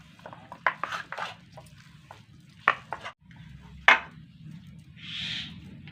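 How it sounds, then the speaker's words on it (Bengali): A spoon stirs potato ball mixture with white oil in a bowl, giving a few sharp scraping clinks and soft mushy stirring sounds in irregular bursts, close and fairly quiet. "সমস্তটা আবারও একসঙ্গে খুব সুন্দর করে মিশিয়ে নেব।"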